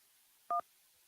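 A single short touch-tone beep sounds once, clear and loud against a quiet hiss, as a number is keyed in to dial into a call-in line.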